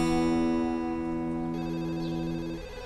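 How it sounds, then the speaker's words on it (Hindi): A telephone rings indoors in a home with a steady electronic tone lasting about three seconds, fairly quiet and heard alone. "जा बेटा दौड़ के देख किसका फोन है।"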